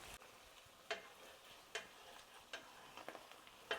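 Six eggs being stirred in a bowl, a utensil knocking against the side in regular sharp clicks roughly every second over a steady hiss of background noise.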